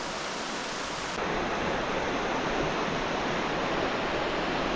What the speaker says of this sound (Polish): Rzeka głośna.